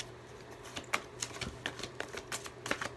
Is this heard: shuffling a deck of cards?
yes